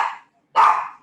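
A dog barks twice nearby, two short, loud yaps separated by a brief pause, heard alone.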